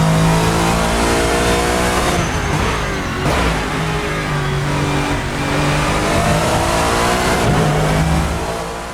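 Lexus GT3 race car in the Assetto Corsa racing game, its engine revving hard and continuously with rising and falling pitch as it accelerates through gears, loud and close with no voices.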